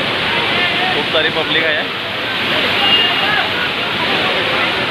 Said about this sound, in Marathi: बघू शकता तुम्ही हा धबधबा